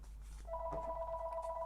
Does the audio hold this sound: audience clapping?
no